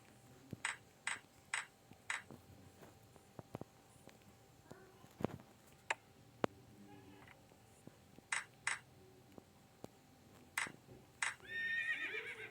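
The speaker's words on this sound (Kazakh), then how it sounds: "жылқымыз шоудалады ғой" A horse in the Minecraft video game neighs and snorts in short bursts among sharp clicks and thuds of block placing, fairly quiet, ending with a longer whinny.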